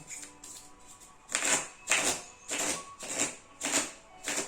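Oracle cards being handled and drawn during a reading: repeated soft papery riffles and slides come in a steady rhythm of bursts, close and clear, with no talking.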